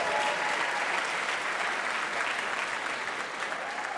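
Steady, dense applause fills a hall from a large audience at a community talks event, continuous and even for the whole stretch with no voices standing out.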